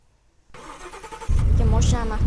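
A car engine in the Roblox game Car Flipper starts up and then settles into a loud, steady run. A person talks over the engine.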